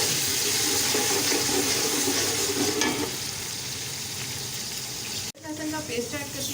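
Ginger garlic paste goes into browned onions in a pot for pulao, setting off a loud, steady sizzle with stirring that eases slightly partway through, then a brief sharp break before the frying carries on.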